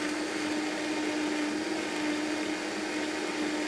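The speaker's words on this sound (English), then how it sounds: "And I'm just going to let the blender run for a minute." Kitchen blender running steadily at speed on a dessert batter, a constant whirring hum with a strong motor whine, even in loudness throughout, no voices.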